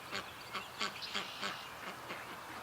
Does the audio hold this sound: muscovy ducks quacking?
yes